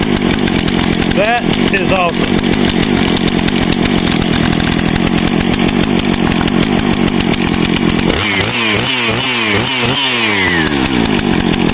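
A Husqvarna 455 Rancher chainsaw, rebuilt from a junk pile after heavy gunk buildup, runs loud and close with a steady idle, then revs up in several rising bursts near the end while someone talks over it.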